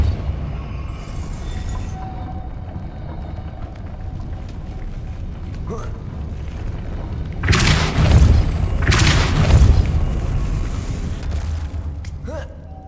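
A Depulso banishing spell striking in Hogwarts Legacy: steady low rumbling, then a heavy thudding boom with a broad crash of noise and a second surge, settling into a mechanical rumble.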